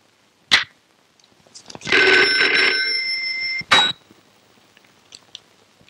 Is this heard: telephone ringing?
yes